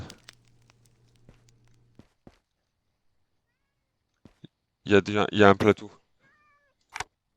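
A single cat meow from a video game, clear and close, follows some quiet clicks and a low hum, with a brief voice at the very start.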